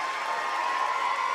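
A crowd at a girls' high school playoff basketball game cheers and claps in a dense, steady roar, filling the whole short stretch without a break.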